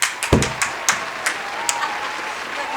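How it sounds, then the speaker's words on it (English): Short burst of applause from a talk-show studio audience welcoming a guest, a few sharp claps at the start thinning into scattered clapping over about three seconds. "Put my applause there."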